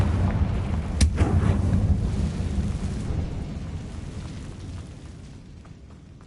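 A Confringo spell blast from the video game Hogwarts Legacy hits with one sharp, loud crack, then a deep rolling rumble that slowly fades over several seconds.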